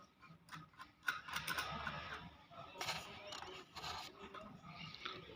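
Hand wheel of a Baoyu overlock sewing machine turned by hand while the differential feed is adjusted, giving close mechanical clicking and ratcheting with irregular ticks and rattles throughout.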